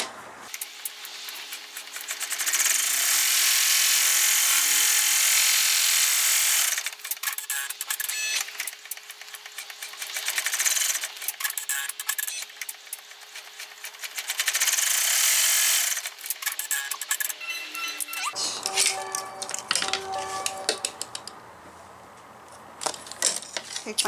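Embroidery machine stitching out an in-the-hoop window wallet, a steady high whirring hum in long bursts with pauses and clicks between, then lighter handling noises near the end.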